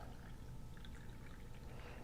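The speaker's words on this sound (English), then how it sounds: "I'm going to pour it in a jar, cover it up," Chicken marinade poured from a mixing bowl into a jar, a steady, close, soft liquid pour lasting throughout, with no talking.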